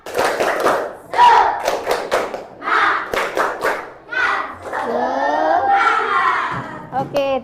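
A classroom group claps together in a rhythmic pattern, mixed with chanting voices and cheering, loud and close.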